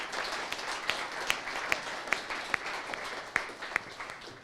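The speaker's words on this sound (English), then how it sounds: "Give them another round of applause." Scattered clapping from an audience at a mental health town hall, quiet and somewhat distant, with individual sharp claps standing out over a soft wash of applause.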